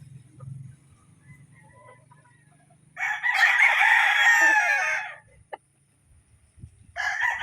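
A young Gilmore-crossbred gamefowl rooster, about five months old, crows once loudly and close for roughly two seconds, then a second crow begins at the end after a short quiet pause.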